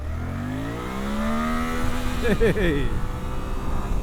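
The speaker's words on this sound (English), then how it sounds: "the thing that makes this bike stand out is certainly that 776cc parallel twin from Suzuki" A Suzuki V-Strom 800 DE's 776cc parallel twin revs up close by, its pitch climbing steadily to a sharp peak before dropping back, while a voice speaks briefly over it.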